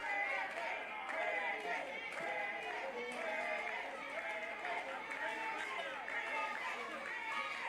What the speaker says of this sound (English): Crowd chanting for Day, trying to get him the energy he needs to power out of this